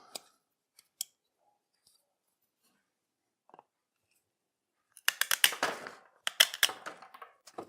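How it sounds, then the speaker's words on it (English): Sharp pruning shears cut through a dormant walnut branch: a few isolated faint clicks, then a burst of loud, close, crackling snaps and crunches as the blades work through the wood, with no talking. "And here are my sharpest shears."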